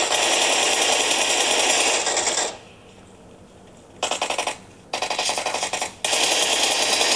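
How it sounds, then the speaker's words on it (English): Rapid automatic gunfire from PUBG Mobile played on a Xiaomi 13 Ultra phone, loud sustained bursts broken by short pauses and a few clipped volleys, close and dominant without talk. "I'm getting shot from the back."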